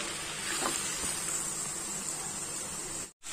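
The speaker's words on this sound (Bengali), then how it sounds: "শুধু হালকা একটু ভাজাটা আপনাদের সাথে দেখাচ্ছি" Okra with shrimp frying lightly in a pan makes a close, even sizzling hiss with soft stirring ticks. It cuts out briefly near the end, and no voices are heard.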